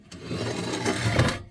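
Sandpaper rasps over body filler on a car air cleaner being modified from a stock Buick unit for a Pontiac four-barrel carburetor, a steady close scrubbing with rhythmic strokes and no talk.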